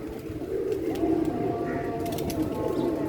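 Pigeons coo in a caged loft, a steady overlapping low murmur of several birds close by, continuing for a few seconds with faint background noise.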